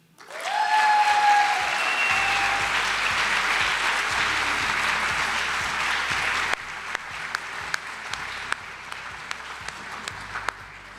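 An awards-ceremony audience bursts into loud, dense applause for an alumni award winner, sustained for several seconds before thinning to scattered individual claps at the end.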